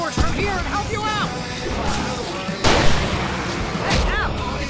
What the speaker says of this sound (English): I can set off 4 of the fireworks from here and help you out!